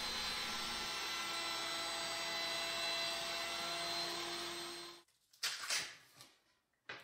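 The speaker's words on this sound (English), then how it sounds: "I turned down my router motor speed and took multiple small passes until the full" A router with its motor speed turned down cuts an edge profile into a wooden drop-leaf side table, a loud steady whine for about five seconds before it stops and a few clattering knocks follow.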